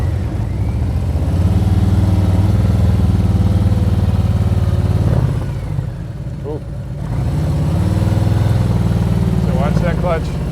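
A motorcycle engine hums steadily nearby during slow clutch friction-zone practice, its note swelling and easing slightly as it creeps along, with a person talking over it.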